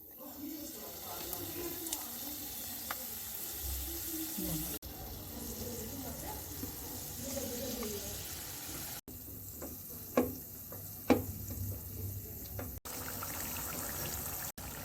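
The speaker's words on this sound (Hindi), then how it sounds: "ऑयल को गरम करेंगे, मीडियम टू लो फ्लेम पर रोल को फ्राई करेंगे।" Buffalo rolls fry in hot oil over a medium-to-low flame, giving a steady close sizzle throughout with a few brief clinks and stirring sounds.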